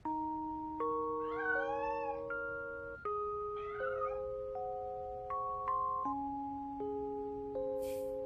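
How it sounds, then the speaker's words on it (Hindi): Tonal cat-like meowing calls rise and bend over a backdrop of sustained, stepped synthesized music chords in a drama scene, the mewing faint and brief against the steady musical bed. "तुम्हें ये बिल्ली ही सबसे ज्यादा क्यों पसंद है?"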